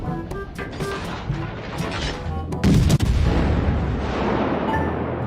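Ship guns fire in a naval battle in World of Warships, a dense string of loud booming blasts and crashes over a steady rumble, one especially heavy salvo near the middle.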